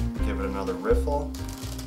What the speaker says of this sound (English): Give it another riffle,